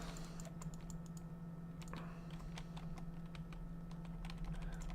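A computer mouse with a faulty double-click, heard as scattered sharp clicks close to the mic, some landing in quick pairs, over a low steady hum.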